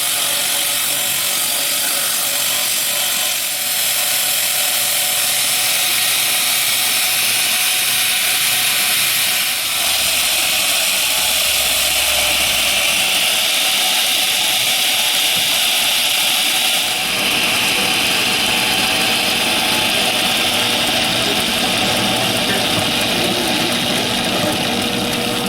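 A bench grinder roughens the slick urethane surface of a saddle pad, a steady loud whirring hiss running continuously without talk.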